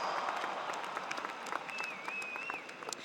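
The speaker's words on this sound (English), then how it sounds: "Let's give that a round of applause." Applause from a graduation audience at an RMIT University ceremony in Melbourne, a fairly faint, distant, sustained crowd clapping with a brief whistle rising above it.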